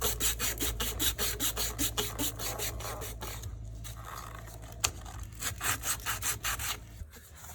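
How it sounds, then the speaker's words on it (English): Flexi sandpaper rubbing back and forth on painted 3/4 inch PVC pipe, a rhythmic rasping scrape of repeated strokes, close and fairly loud, slowing briefly midway before resuming. "now we need to clean the pipe, and we'll use some of this flexi sandpaper"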